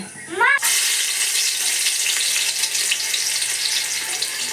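Mustard seeds hit hot oil with a sudden loud sizzle and crackle that holds steady and bright, with a brief rising voice just before the burst.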